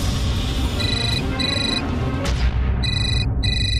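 A mobile phone rings in a tense drama scene, bursts of a bright electronic ringtone repeating in short pulses over a dense background score, with a brief crash-like hit in the middle.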